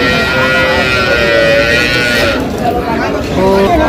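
A cow with her calf lows at a busy cattle market in Ambari, with tonal moos rising over constant crowd chatter and nearby voices throughout.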